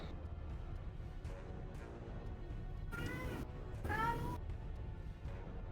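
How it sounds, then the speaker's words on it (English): Two loud, drawn-out meows from a house cat cut through in quick succession over a steady room background. "that's my cat, sorry."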